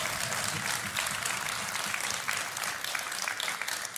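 A live crowd at a competitive gaming event claps loudly and continuously for a player walking up to play, a dense roar of applause with no clear voices.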